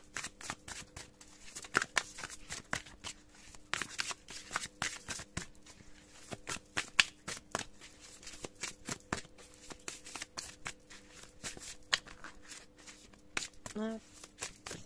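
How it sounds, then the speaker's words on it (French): Thick deck of tarot cards being shuffled by hand, with repeated crisp riffling snaps and flutters in irregular bursts, while a person talks quietly over it. "C'est pas évident de brasser un paquet aussi épais."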